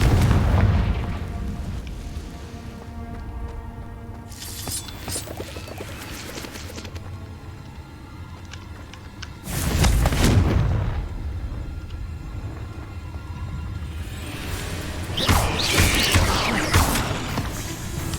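Confringo fire spells explode in the video game Hogwarts Legacy: three loud, booming blasts spaced several seconds apart, each with a roaring tail over a lower rumble of background game sound.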